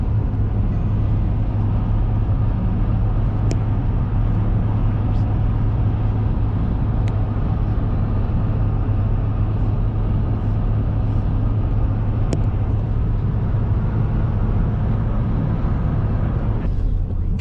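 A car crosses the Tacoma Narrows suspension bridge with a steady, loud roar of tires and engine and heavy low road rumble, a few faint ticks rising above the continuous drone.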